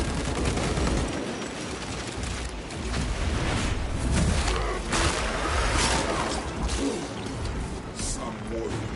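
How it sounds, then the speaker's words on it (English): Cannons firing in the video game Warhammer 40,000: Space Marine 2, a dense, continuous barrage of heavy booms and crashes layered with battlefield whooshes, loud and unbroken for the whole stretch. "Cannons have resumed firing."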